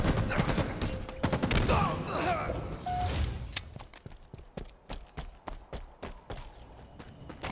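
Bursts of rapid gunfire in the Halo Infinite ranked Arena match, a loud dense fusillade at first, then a string of sharp separated shots and impacts, with game voice callouts mixed in.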